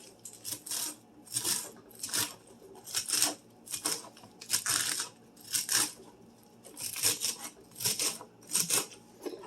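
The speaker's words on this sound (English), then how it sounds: "Go ahead and chop up your celery." Knife chopping celery on a cutting board for beef stew: a steady series of quick, sharp crisp chops in rhythmic bursts, close and clear with no talking.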